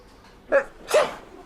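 A quick pair of sharp sneezes, close and fairly loud, a short inhale burst followed by a stronger explosive one.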